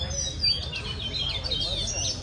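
A white-rumped shama sings at an inter-provincial songbird contest, a bright warbling run of high chirps and whistles close by over a steady low crowd murmur.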